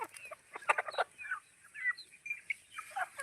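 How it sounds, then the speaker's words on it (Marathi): Free-range country hens cluck and chicks peep in quick, overlapping bursts on a poultry farm, close by, with no talking. "आता ही पिल्ली आणि कोंबडी आता आपली बघू शकता"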